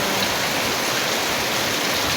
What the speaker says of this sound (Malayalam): കാറ്റും മഴയും.